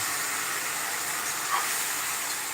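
Spices, cluster beans and cooked potato hit a hot pan for a Marathi gavar bhaji, setting off a loud, steady, close hiss of sizzling that holds evenly throughout.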